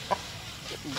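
Chickens give a few faint, short clucks nearby in a quiet pen, with soft background noise.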